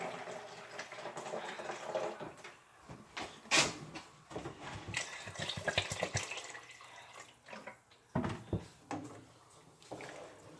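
Water runs and splashes intermittently into a pot of chicken stew, with soft clinks and bumps in between, fairly quiet and close.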